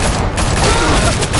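A short, loud burst of rapid gunfire, sustained and dense throughout, during a noir-style Batman scene, with no pause in the shooting.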